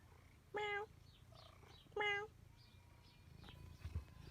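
A cat on a farm gives two clear, close meows, with softer mewing and quiet rustling in the gaps between them.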